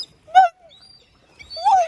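Birds being fed close by give two short calls with a silent gap between them, each a brief hooting cry, with no talking.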